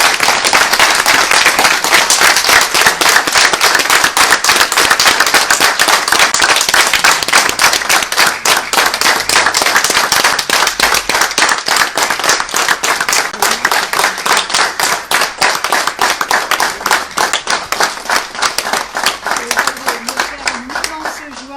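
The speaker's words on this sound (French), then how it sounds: "je pense qu'on peut l'applaudir" Council members at the Onnaing municipal council installation, May 2020, give the newly elected mayor Xavier Joannin loud, sustained applause. The dense clapping runs over twenty seconds, with voices mixed in and a slight fade toward the end.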